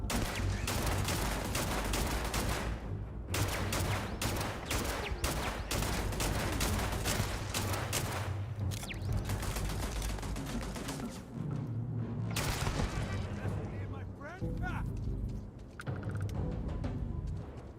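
Rapid automatic fire from a turret in the sci-fi shooter Starfield, a dense, continuous barrage of shots and impacts rattling on loudly for the whole stretch with only brief dips.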